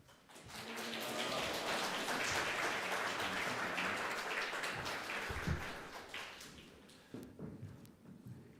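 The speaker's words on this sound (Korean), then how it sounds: "목사님 오실 때 할렐루야 하고 박수로 환영합니다." A church congregation claps to welcome the pastor to the pulpit at a Sunday service, a swell of many hands that builds quickly, holds, then thins out into scattered claps and some muffled movement.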